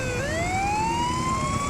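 A police motorcycle siren wails steadily and rises in pitch, drawn out and fairly loud over a constant background hum.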